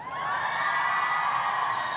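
A big crowd at New York Comic Con cheers and whoops loudly and steadily for two seconds, a dense wall of shouting voices filling the hall.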